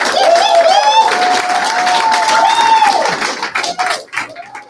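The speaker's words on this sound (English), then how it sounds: "Another round of applause for Eric Parker." Crowd applause at a Libertarian political rally for a city council candidate, a dense loud burst of clapping from a gathered audience, with a voice over a loudspeaker speaking above it before it fades out.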